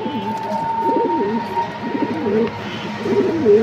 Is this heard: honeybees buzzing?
no